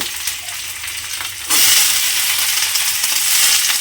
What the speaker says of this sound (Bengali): এবারে আমি তেলের মধ্যে দিয়ে দেব পেঁয়াজ